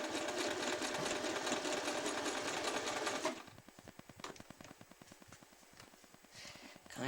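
Sewing machine stitching ruffle elastic with a wobble (narrow zigzag) stitch: a fast, dense run for three seconds, then slower, softer rhythmic needle thumps as the fabric is guided.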